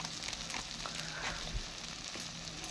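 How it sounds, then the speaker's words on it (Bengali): Turmeric, Kashmiri chilli powder and meat masala fry in a tomato pasta sauce while being stirred, giving a steady close sizzle with faint scraping. "এই সব মশলাগুলোকে দিয়ে আবারও ভালো করে আমি নাড়িয়ে ভালো করে কষিয়ে নেব।"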